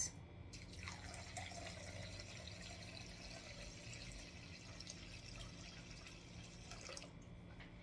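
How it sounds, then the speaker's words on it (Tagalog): Water pours off soaking rice in a steady, faint trickle that runs for several seconds with soft splashing and no talk. "Bawasan nyo ng tubig."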